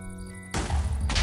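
In Minecraft, a sudden booming blast cuts off a steady electronic hum, followed by a rumbling, crackling roar that sustains loudly to the end.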